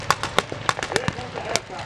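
A pyrotechnic charge goes off in a Sherman tank battle display at Tankfest 2023 as a string of sharp crackling bangs, loud and outdoors, while a voice talks over it.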